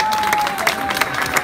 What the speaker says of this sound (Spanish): Un aplauso para mi brother Alex Lora.